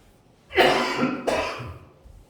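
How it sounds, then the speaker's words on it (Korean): Two harsh coughs in quick succession from a sore throat, close and loud, with a short breathy tail and no talking. "어제 밤부터 이렇게 목에 기침이 나는데 목이 아프다"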